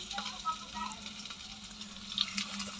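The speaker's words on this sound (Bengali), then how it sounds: "এবার আমি চেপে চেপে সুন্দর করে ভেজে নেব, যাতে ভিতর পর্যন্ত ভাজা হয়ে যায়।" Fish roe frying in hot oil while being pressed down, a steady close sizzle with scattered crackles and pops throughout, no talking.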